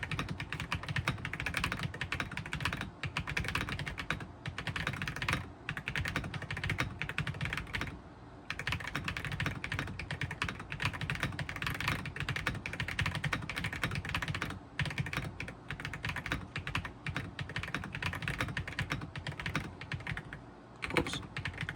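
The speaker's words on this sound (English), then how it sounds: "So we're just going to be doing a quick type test here." Rapid, steady typing on a Redragon K725LBY wireless mechanical keyboard, close up and alone, with dense clicky keystrokes and only brief pauses over about twenty seconds.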